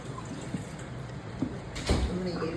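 Brined chicken is rinsed in a strainer under running water, a soft steady trickle and splash that swells briefly near the end, faint and close with a little background murmur.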